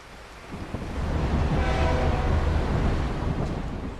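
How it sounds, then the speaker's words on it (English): A freight train rolling past, a broad rumbling roar that swells after the first second, holds steady, then eases slightly, with no voices. "the freight trains keep on rolling"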